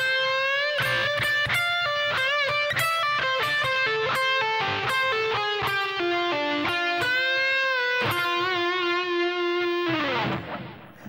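Distorted electric guitar solo phrase, played alone as a continuous run of quick picked notes with bends and vibrato, ending on a held unison bend that rings out and fades.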